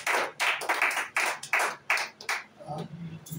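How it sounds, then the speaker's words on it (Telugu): Slow, rhythmic clapping rings out in about eight spaced bursts at a pastors' welfare association gathering, fairly close, then gives way to a brief low murmur. "అందరూ చప్పట్లు కొడదాం."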